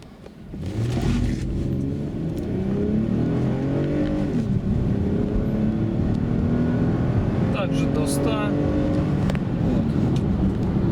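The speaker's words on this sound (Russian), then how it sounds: "разгон на бензине" A 2013 Toyota Highlander 3.5 V6 fitted with a Landi Renzo gas system accelerates on petrol. The engine rumbles up through rising gear sweeps with audible shifts, heard from inside the cabin and steady after a quick start.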